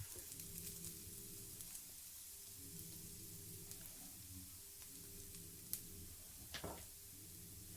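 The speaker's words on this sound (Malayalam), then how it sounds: "ഒരു ചെറിയ പീസ് ക്യാരറ്റും അതുപോലെ ഇത്തിരി സവാളയും കൂടി ചേർത്ത് ഒന്ന് വഴറ്റി കൊടുക്കുക." Carrot pieces and onion sautéing in a pan for a brinjal dish, giving a faint, steady sizzle throughout with a few small clinks near the end and no talk.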